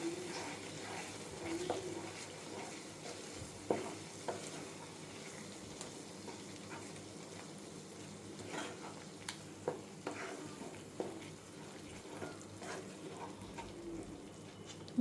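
Spinach paste for palak paneer stirred in a hot pan, a continuous soft sizzle with scattered light scrapes and taps of the spoon, close and moderately quiet, with faint background sounds.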